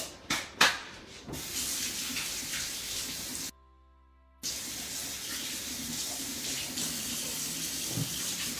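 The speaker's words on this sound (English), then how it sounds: "wash your hands real quick" Hands being washed under a running kitchen tap while making egg noodle dough, a steady close hiss of flowing water after a few knocks, cut by a brief silent gap before the stream resumes.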